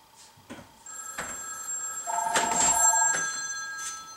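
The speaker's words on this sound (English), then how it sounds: "I got a phone call." An indoor telephone bell rings in several bursts, fairly loud and close, with no talk over it.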